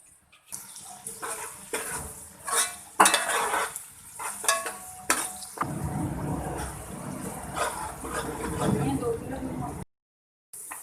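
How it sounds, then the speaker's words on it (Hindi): Seven sliced onions fry in oil in a pot for a Bakra Eid shahi pasanday, with metal spoon clanks and stirring scrapes over a sizzle that settles into a steady frying hiss while a person talks. "इनको हम ऑयल में डाल देंगे और इनको फ्राई कर लेंगे"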